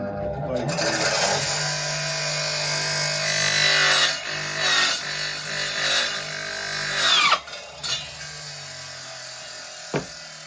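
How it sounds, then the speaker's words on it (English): A power tool cuts through 6mm aluminium plate with a loud, sustained, high whining grind that drops off near the end and is followed by a few brief clanks. "6mm aluminium, it just cuts like butter."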